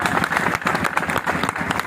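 A crowd at a Mission Shakti rally in Mau claps together in a dense, lively burst of rapid hand claps, close and loud, with faint voices mixed in.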